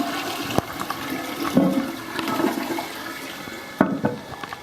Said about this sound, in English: This is the commode.